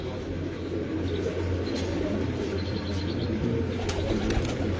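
Breeder pigeons coo and rustle in a loft, soft repeated calls and occasional chirps over a constant low background hum.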